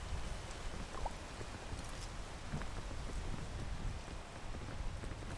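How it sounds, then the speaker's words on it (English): Steady rain falls in the game PEAK, a dense, even hiss of drops with scattered soft patters, moderately quiet and continuous without pause. "It's still raining."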